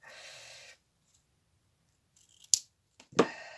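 Scissors snip material for a hanging initial wedding bouquet, giving two sharp close cuts near the end after a brief rustle and a quiet pause.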